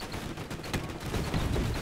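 Dense, continuous volleys of bullets fired from airships in the strategy game Airships: Conquer the Skies, a steady rattling barrage with sharper bursts throughout, loud and unbroken.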